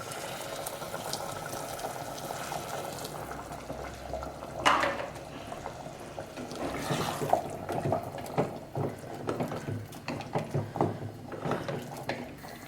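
Hot water is poured into chana masala gravy in a pot, giving a brief splashing gush followed by bubbling, spluttering simmer and scattered clinks of a utensil, fairly quiet and close.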